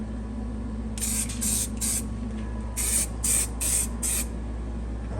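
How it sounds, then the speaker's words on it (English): Weld-through primer sprays from an aerosol can onto a 1978 Trans Am under restoration, in seven short hissing bursts, three then four, close and crisp over a low background hum. "let me spray all this shit, get it primed up"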